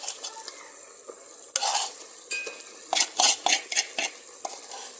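Meat and garlic sizzle in a hot pan as a utensil stirs and scrapes, steady frying hiss punctuated by several sharp, close metallic strokes against the pan.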